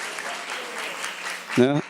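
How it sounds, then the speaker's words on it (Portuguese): Steady applause from a conference audience of architects fills the room, a continuous wash of clapping that swells briefly near the end before fading. "uma salva de palmas para todos os participantes"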